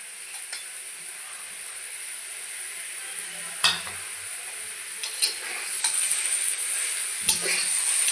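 Onion and green chillies added to half-cooked potatoes frying in a pan, a soft continuous sizzle with a few sharp utensil knocks against the pan and no voices.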